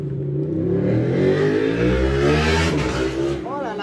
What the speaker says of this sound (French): Voilà les motos.